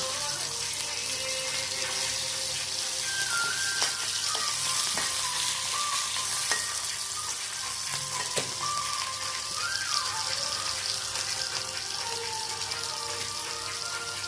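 Tamarind and small shallots fry in oil in a pan for a dried red chilli chutney, giving a steady close sizzle throughout with a few faint clinks and stirring sounds.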